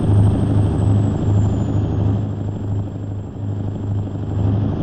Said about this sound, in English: Helicopter is on the other side